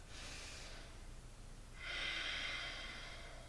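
Deep breathing during a yoga flow session: a soft airy exhale, then a stronger, brighter breath rush near the end, close against a low steady room hum.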